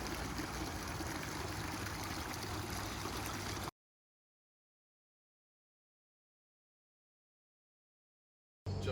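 Water from a small waterfall rushes over rocks outdoors in a steady, dense flow for a few seconds, then the sound cuts to silence before briefly returning at the end.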